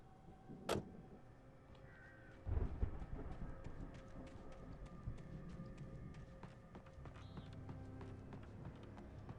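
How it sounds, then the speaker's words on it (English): Thunderstorm in the video game Alan Wake, with a sharp crack and then a deep rumble of thunder that settles into a steady wash of rain and wind, along with scattered game noises and clicks, heard fairly faint with no talking. "that storm we all felt coming is finally here"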